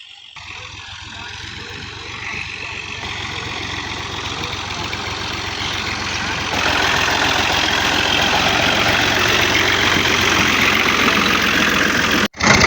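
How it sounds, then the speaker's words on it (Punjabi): A tractor engine idles steadily for the whole stretch with a constant low rumble and chug that grows a little louder partway through, then cuts off abruptly near the end before briefly starting up again. "ਹੁਣ ਤੈਬ ਲੈ ਕੇ ਆਉਂਦੇ ਨੇ ਟਰੈਕਟਰ"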